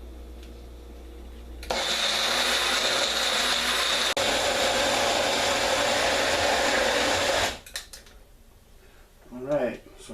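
A blender grinds dandelion pesto: a loud whirring motor runs steadily for about six seconds, then stops, followed by a person talking.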